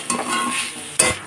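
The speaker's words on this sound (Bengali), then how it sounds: "এখন ভালো করে কষে নেব।" Bitter gourd and fried vegetables with turmeric are stirred in a frying pan for a vegetarian chorchori, giving two quick scraping strokes over a soft, steady sizzle.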